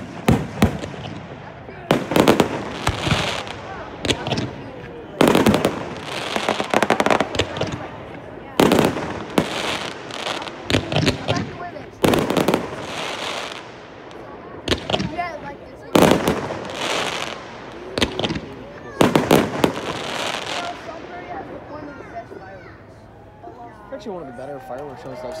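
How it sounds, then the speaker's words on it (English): Fireworks display at Angell Park bursts repeatedly in loud, sharp explosions spaced every second or two, with crackling tails and crowd voices and talk underneath throughout. "One of the better fireworks shows I've seen in a while."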